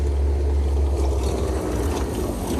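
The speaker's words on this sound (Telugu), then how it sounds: "ఆటో అండి." Auto rickshaw engine, a loud, steady low-pitched drone that runs close and continuous for the whole stretch, with no talk over it.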